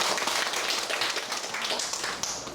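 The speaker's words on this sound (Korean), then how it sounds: "다시 한번 큰 박수 부탁드립니다." Audience applause at a Korean cadet academy lecture ceremony, a dense, loud, continuous wash of many hands clapping together with no pauses.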